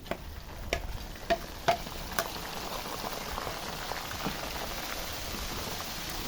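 Mustard paste with cumin and bay leaf being stirred in a pan for raw mango pickle, giving a dense bubbling sizzle with several sharp spoon knocks early on and steady frying afterward, no voices.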